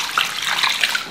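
Water is poured into a pot of chopped beef ribs, a close, steady gushing splash that lasts about a second with no other sound.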